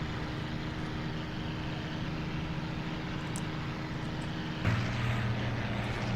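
Spitfire aircraft engine in the IL-2 1946 flight sim game, heard from the cockpit as a steady, loud, continuous roar that rises briefly near the end.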